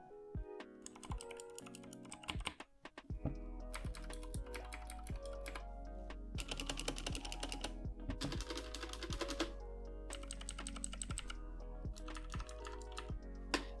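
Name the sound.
typing noise test on mechanical keyboards, HyperX vs Cherry MX Blue switches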